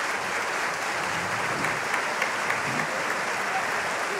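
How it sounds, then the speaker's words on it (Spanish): Sustained applause from a concert audience at a tribute concert, a dense, even roar of clapping that fills the whole few seconds without letting up. "un aplauso cerrado para todos los artistas que nos acompañaron"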